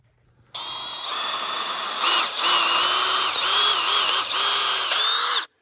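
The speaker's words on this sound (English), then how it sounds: "drill the hole with our tree saver bit" A cordless drill with a tree saver bit bores a two-inch-deep tap hole into a maple tree, a loud steady whine lasting about five seconds with slight pitch dips as the bit bites, then stopping abruptly.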